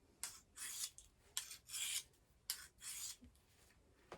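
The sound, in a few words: knife being sharpened on a sharpening stone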